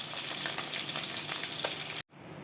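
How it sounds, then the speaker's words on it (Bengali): Koi fish frying in hot oil, a dense continuous close sizzle that cuts off abruptly near the end, leaving quieter background. "এবার কই মাছগুলো এপিট ওপিট করে ভালো করে ফ্রাই করে নিচ্ছি।"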